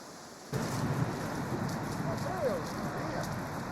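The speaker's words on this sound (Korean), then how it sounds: "비가 오는데" Rain in a Venezuelan jungle sets in suddenly as a dense, steady hiss that stays loud and even, while a faint voice sounds in the background.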